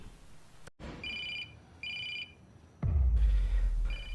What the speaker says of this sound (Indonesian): Richard pun bangun mendengar ponselnya berbunyi.